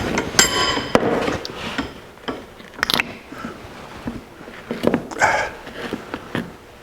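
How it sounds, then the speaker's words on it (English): A bearing packer forcing grease through a wheel bearing from a 1982 Jeep CJ7 axle: sporadic metallic clicks, clinks and squelching knocks at uneven intervals, moderately close, separated by quiet gaps. "this is a bearing packer. And I like it a lot because you can actually see the grease come through the bearing"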